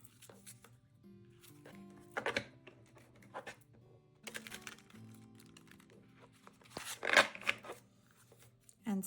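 Soft shuffling of glossy tarot cards in intermittent bursts, quiet and close, with a low hum underneath.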